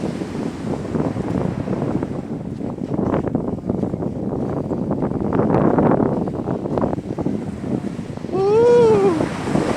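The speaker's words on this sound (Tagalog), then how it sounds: "Ang tataas ng alon." High ocean waves crash and roll continuously on a shore, with gusty wind buffeting the microphone and a brief whistling call near the end.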